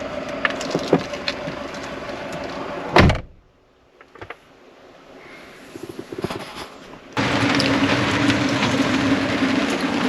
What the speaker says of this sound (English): I'll close the door now.